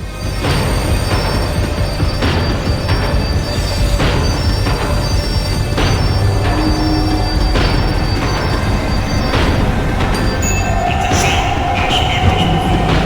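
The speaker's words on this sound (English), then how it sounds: "The tram was slowing down, and I'd only just gotten on board" A tram in the video game Max Payne 3 slows down, heard as a loud rumbling rail clatter with rhythmic wheel thumps and squealing metal, continuous and close throughout.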